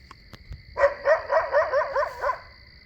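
A human voice imitates a coyote's bark: a run of about seven quick, yipping barks in steady rhythm, close and fairly loud, following a few faint knocks, with a steady electronic tone in the background.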